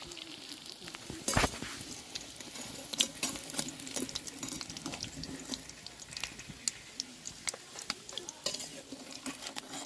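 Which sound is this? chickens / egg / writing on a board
egg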